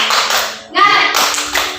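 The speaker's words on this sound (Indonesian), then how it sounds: "Coba kita tepuk semangat terlebih dahulu." Several people clap a short, quick cheer rhythm up close in an elementary school class, bursts of sharp claps broken by brief gaps, with a voice mixed in.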